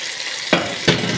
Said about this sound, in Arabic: هبدأ احط معلقتين الصلصة، هحورهم.